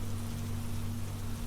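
Steady, even rain falls without pause, a dense wash of drops close by with a low constant hum beneath, and no voices or other events.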